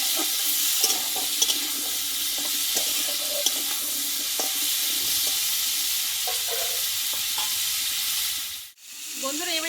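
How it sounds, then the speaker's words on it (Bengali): Papaya pieces sautéing in hot oil in a pan with turmeric and salt, a steady sizzle under scattered stirring scrapes, close and continuous, briefly dropping out near the end. "এবার তেলে ভালোভাবে আমি পেটে কষিয়ে নেবো"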